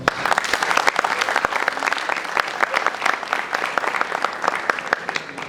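An audience at a literary festival panel applauding, a steady burst of clapping from many hands filling the room throughout, with no talk over it.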